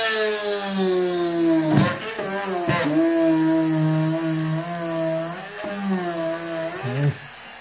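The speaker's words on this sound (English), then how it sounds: "we will now use a bigger drill bit and use the hole that we have put in there as a guide for this drill here" A power drill spins a 2.5 mm bit into a miniature, a steady high whine with a few brief interruptions and pitch dips as the bit bites, close and fairly loud.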